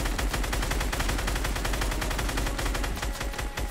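Rapid automatic gunfire in a video game, a dense unbroken stream of sharp repeated shots rattling loudly for several seconds, heard alone.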